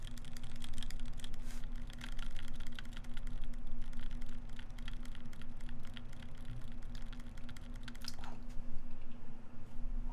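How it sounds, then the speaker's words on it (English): Mechanical keyboard switches on a Keycult No.1 Rev.1 build tick and click in a steady, dense patter, close and fairly soft, continuing for the whole stretch with a low steady hum beneath and no talking. "I can hear some clicking. It's like a ticking, slight ticking noise. But yeah, that's due to the switch."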